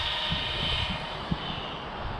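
A 28mm electric motor in a WB12PRO RC car runs at full throttle on a high C rated battery with a 31 tooth pinion, giving a steady high-pitched whine with a faint rumble underneath.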